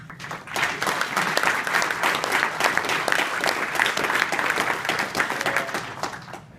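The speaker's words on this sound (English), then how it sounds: "Let's give them a round of applause." Sustained audience applause at a Symfony Live New York tech conference, dense and steady clapping from a large crowd filling the room for several seconds.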